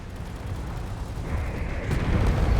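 Rumbling torpedo explosions in the Space Engineers game, a continuous low roar that swells louder over a few seconds, with no talk over it.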